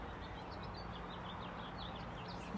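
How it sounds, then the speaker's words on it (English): Faint birdsong chirps drift over a steady outdoor hiss, several small calls scattered through, distant and soft. "Just listen to those birds sing."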